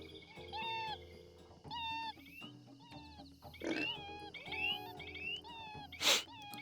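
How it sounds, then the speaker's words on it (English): A giant sneezes in the video game Doshin the Giant, two sharp bursts, one midway and a louder one near the end, amid chirpy, whistling character calls and game sounds. "Oh, I just had to sneeze."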